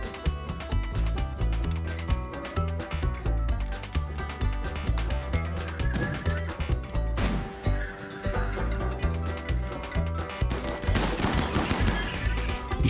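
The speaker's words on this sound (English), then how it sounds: "Looks like these guys are now getting shot at." Gunfire in the video game RimWorld, with dense rapid shots layered over steady game music for the whole stretch, and no voices.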